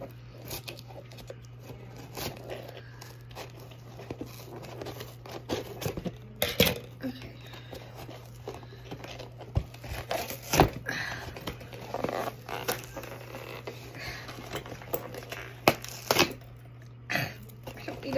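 Someone cuts into the plastic-wrapped packaging of an album. Close, irregular snips, scrapes and crinkles arrive in scattered clusters over a low steady hum, with occasional sharper clicks as the wrap gives way.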